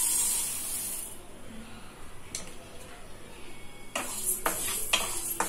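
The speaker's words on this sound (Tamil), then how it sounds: "இதுக்கு ஒரு பேனில் வந்து ஒரு கப் கொள்ளு சேர்த்து இதை வந்து மீடியம் ஃப்ளேமில் ஒரு 4 to 5 minutes வந்து நல்லா ஃப்ரை பண்ணி எடுத்துக்க போகிறேன்" Horse gram (kollu) dry-roasting in a pan over a medium flame, a soft continuous hiss and rustle with occasional light scraping and clicks of stirring, close and fairly quiet.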